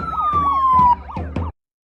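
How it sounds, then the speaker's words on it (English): An emergency vehicle siren wails loudly and steadily in clip playback, with falling tones and rhythmic pulses that cut off abruptly. "They love that siren, like Johnny said there."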